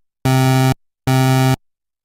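Synthesizer note from two pulse wave oscillators with 8 voices in total, sounding as two thick, buzzy sustained tones of about half a second each with a gap between.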